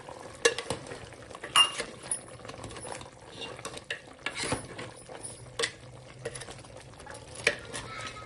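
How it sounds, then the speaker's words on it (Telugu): A goat head curry is stirred in a pan with the lid off, giving a run of scraping, clattering spoon strokes over a soft sizzle, close and moderately loud with no voices. "ఇప్పుడు మూత తీసి మరొకసారి కలుపుదాం"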